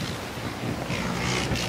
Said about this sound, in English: God, it's bloody windy.